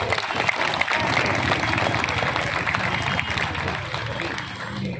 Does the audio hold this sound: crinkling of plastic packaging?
no